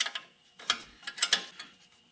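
Wrench ratcheting on the foot peg bolts of a Can-Am DS90X quad, 12 mm on the bolt side and 13 mm on the nut side: several short clicking bursts of metal ratchet mechanism, close up and alone.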